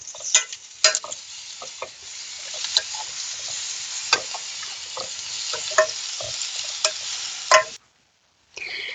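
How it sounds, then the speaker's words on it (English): Vegetables, including asparagus and tomatoes, sizzle steadily in a hot pan while stir-fried, with sharp crackles and pops and occasional scraping from stirring, then a brief silence near the end. "I'll keep stir frying that and I'll show it to you once that's done."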